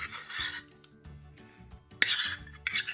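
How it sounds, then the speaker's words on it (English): Peanut butter and butter being combined in a bowl, with scraping and rubbing of a utensil against the dish in short uneven strokes, clinks, and a sharper knock partway through, close and fairly quiet. "we're going to combine the peanut butter and the butter in the bowl here"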